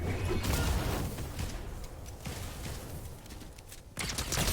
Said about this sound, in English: They're all shooting at people.